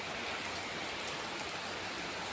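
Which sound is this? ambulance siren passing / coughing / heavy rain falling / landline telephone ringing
heavy rain falling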